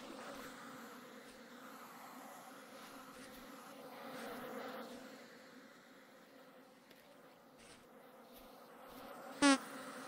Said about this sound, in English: It's the angry bees of the hive I just destroyed.